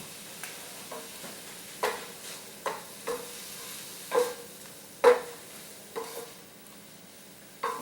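Oyster mushrooms simmering with teriyaki sauce in a pan, a soft continuous sizzle broken by regular sharp clinks and scrapes of a utensil against the pan, close and moderately loud.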